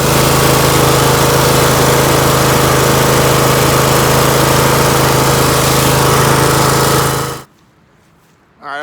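A lawn mower engine idles loud and close with a steady drone on a spring day after mowing tall fescue grass, then cuts off abruptly near the end, leaving brief quiet before a faint sound returns.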